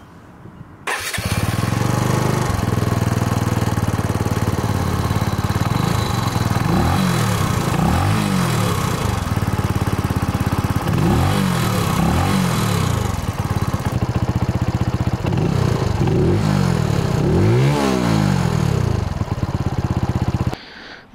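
A Benelli TNT 125 motorcycle with a dual-tip exhaust idles loudly up close, and its engine revs sharply several times, climbing and falling in repeated bursts before settling back to idle.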